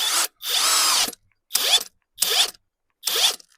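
Grosser GCD 161KBT cordless drill-driver, rated 160 Nm with a 13 mm chuck, whirring in four separate bursts with short silent gaps. The motor sounds close and loud and spins up and down each time, with no voices.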